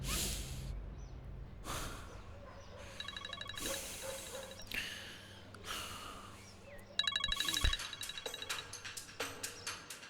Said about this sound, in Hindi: अब मलिका क्यों फोन कर रही है?